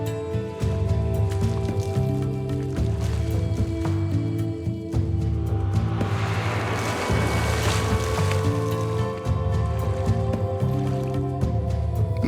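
A woman drops into a water-filled 55-gallon drum, making a broad splash and sloshing water midway through, set against steady background music that plays throughout.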